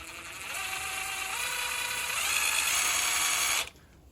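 A DeWalt DCF845B impact driver spins up at variable speed, its motor whine rising in pitch as the trigger is squeezed further, held close for a few seconds before stopping abruptly.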